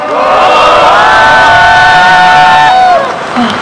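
A large crowd at a candlelight rally in Incheon lets out a loud, sustained roar of cheering, voices merging into a unison shout that holds for a few seconds before fading.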